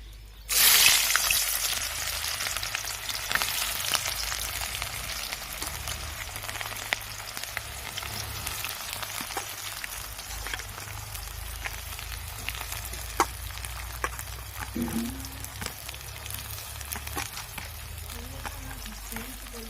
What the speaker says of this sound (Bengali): তো এরপর আমি দিয়ে দেব কুচিয়ে রাখা পেঁয়াজটাকে।